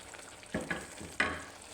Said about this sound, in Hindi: अब इसके अंदर ये हमने जो फ्राई किए थे बैंगन ये डालेंगे।